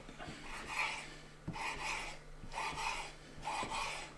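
A knife slices cured ham into strips on a kitchen board, giving three or four close, rasping strokes spaced about a second apart, each a short scraping sweep with soft taps between.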